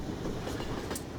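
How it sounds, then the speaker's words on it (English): A classic locomotive-hauled train running in Garry's Mod, heard from inside as a dense continuous rumble of wheels and carriage noise with faint clattering, loud and steady throughout. "let's stop the train just for now"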